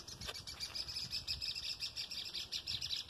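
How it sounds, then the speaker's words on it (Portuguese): Birds sing steadily in the distance, a faint chorus of repeated chirps and trills over quiet outdoor ambience. "Olha o canto dos pássaros"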